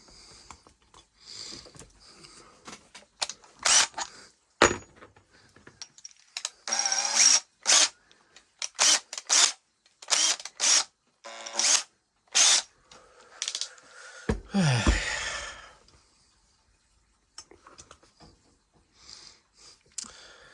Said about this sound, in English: I've got the bit in the drill bit, so I'll just run it up a little bit.